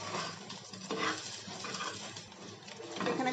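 Egg being scrambled and fried in mustard oil, a continuous close sizzle mixed with scraping and stirring strokes against the pan, fairly soft throughout.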